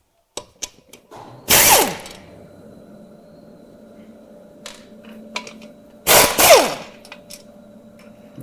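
A hand ratchet works bolts out of a CVT, giving two loud bursts of rapid metallic clicking and whirring with scattered clinks and tool taps between them, close by.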